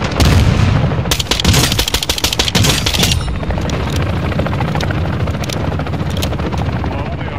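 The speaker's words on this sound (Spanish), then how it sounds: "Helicóptero de carga en camino a la zona." A cargo helicopter arrives in a Call of Duty multiplayer match on Xbox Series X, its loud, steady rotor wash mixed with bursts of gunfire and explosions during the first three seconds, then settling into a continuous roar.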